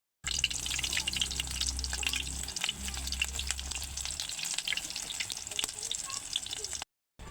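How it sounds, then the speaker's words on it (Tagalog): A squash blossom omelette fries in a pan with a steady crackling sizzle, stirring sounds and a low rumble near the start before the sizzle fades out. "Prito na natin."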